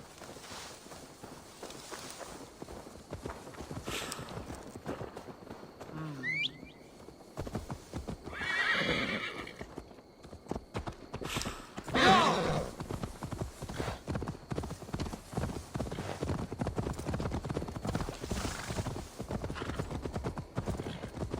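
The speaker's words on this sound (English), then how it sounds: "Now to deliver Magni his horse" Hooves clip-clop steadily over outdoor ambience in the video game Assassin's Creed Valhalla, with a horse whinnying briefly partway through; no talking.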